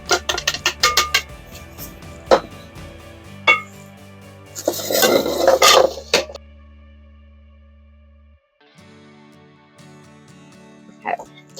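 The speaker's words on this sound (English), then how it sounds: "And it just says to mix this with the sugars." Melted butter mixed with powdered and regular sugar in a bowl for sun and moon cookies: sharp utensil clinks against the bowl, then a short burst of scraping and stirring over faint background music.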